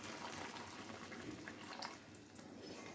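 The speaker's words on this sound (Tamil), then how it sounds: "இந்த அளவுக்கு வெந்ததுக்கப்புறம் நம்ம வந்து இந்த பால் ஊற்றிக்கலாம்" Milk poured into a pot of vermicelli cooking for mango kheer, a steady soft liquid gush with faint bubbling, quiet and continuous for a few seconds.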